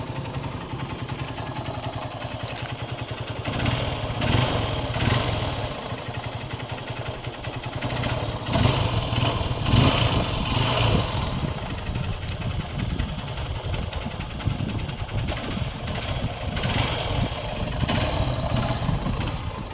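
A 2012 Honda Unicorn motorcycle engine runs at idle, a steady low rumble close by with a few swells in loudness and some light mechanical clatter.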